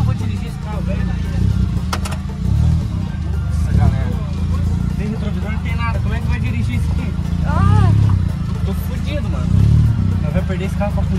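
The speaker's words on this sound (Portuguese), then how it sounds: "como é que eu vou dirigir esse carro velho aí?" An old car with no mirrors runs its engine in a steady rumble that rises and falls as it is driven, under near-continuous excited talk from the driver.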